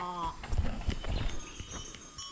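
Cattle move about on the open savanna of Mount Rinjani, giving dull, irregular hoof thuds and clomps at close range. A short tonal call sounds at the start.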